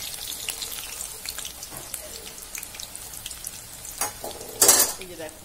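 Greens fry in hot oil with a continuous crackling sizzle, scattered pops and the clink of a utensil stirring in the pan, ending in a brief louder burst of spattering.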